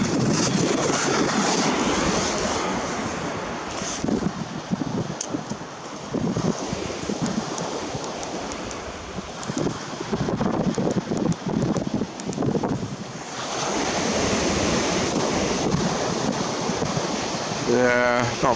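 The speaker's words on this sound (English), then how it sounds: "Oh, that wind's come up." Wind gusts rumble against the microphone outdoors while fishing, rising and easing, while someone talks intermittently over the blustery noise.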